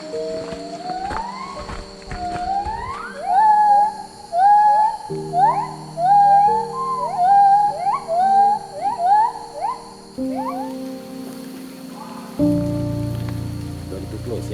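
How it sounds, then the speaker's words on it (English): A family of gibbons calls from trees in the Sumatran forest, a chorus of rising whooping hoots repeated in quick rhythmic phrases, loud and fairly close over a steady background of rain or forest hum. "So that sound is a family of gibbons up in the tree"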